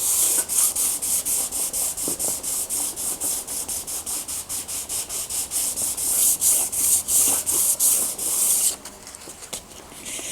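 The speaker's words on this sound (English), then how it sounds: "radiused block with a piece of adhesive sandpaper and just sand this all down" Guitar frets on a Harmony Model 1327 are sanded with adhesive sandpaper on a radiused block, giving rapid rhythmic back-and-forth rasping strokes, close and loud, steady for several seconds before stopping.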